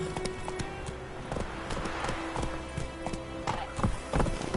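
A horse gallops in The Witcher 3: Wild Hunt, with steady rhythmic hoof clip-clops at close range and a faint background hum.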